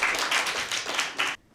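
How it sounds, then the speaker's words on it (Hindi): Brief burst of audience clapping on a Christmas children's quiz show, lively and fairly close, lasting just over a second before cutting off to near silence. "अबीरा के लिए भरपूर तालियां"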